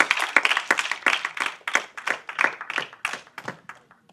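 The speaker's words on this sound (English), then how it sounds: "Let's have a big round of applause for him." Conference audience at a World Bipolar Day panel discussion applauding, a steady run of close, crisp handclaps from a modest crowd that swells and thins in waves before tapering off.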